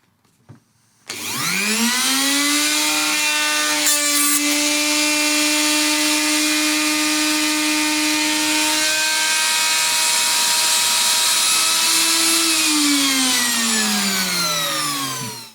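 A router fitted with a brand-new spiral bit trims a guitar body, spinning up after a brief quiet start into a loud, steady high whine that holds, then winds down at the end.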